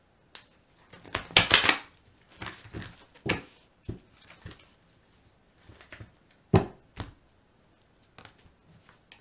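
Tarot cards are shuffled by hand in a quiet room, giving a run of soft, irregular riffles and slaps that come close and fairly faint, with brief pauses between them.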